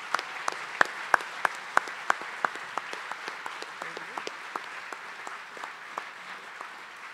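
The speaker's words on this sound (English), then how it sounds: "So let's give them a round of applause." At an engineering gala, a moderate-sized audience claps in a room, starting with a few loud nearby claps and settling into softer, thinning applause that tapers off over several seconds.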